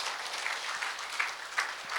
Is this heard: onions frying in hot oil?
no